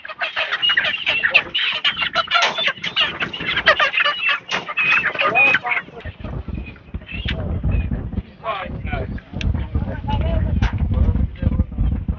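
Colour-bird chickens in a poultry shed cluck and squawk continuously in a busy flock chorus. The chickens are close and moderately loud, with sharp calls popping up throughout.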